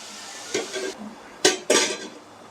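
A spoon scrapes and clatters in a pan while stirring tomato and onions for a chicken pasta, three short close bursts of metallic scraping with a quiet pause between.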